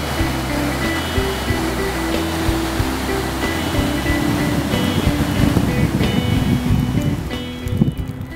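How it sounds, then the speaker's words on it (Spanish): The Brieva mountain river runs in autumn near Brieva de Cameros, a steady broad rush of flowing water close by that stays loud and continuous from start to finish. "nos acompaña el río Brieva con su sonido alegre y cantarín, como corresponde a un buen río de montaña"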